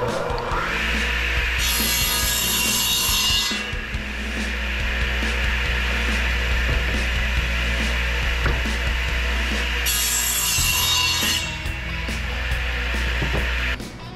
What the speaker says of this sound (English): When I cut this, because it's straight, of course I'm gonna be cutting it over here on my Craftsman radial arm saw.